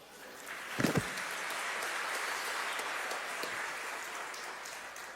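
A church congregation claps steadily through a sermon, a dense wash of hands that holds evenly for several seconds, with a couple of heavier thumps near the start.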